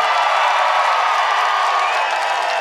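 A concert crowd cheers and applauds at a show at Shamrock Rebellion, a loud, steady roar of clapping and shouting that fills the space without letup.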